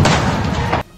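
Tear gas shells burst inside Al-Aqsa Mosque during clashes with Israeli soldiers, giving a loud, dense, booming blast that fills about a second before dropping away sharply.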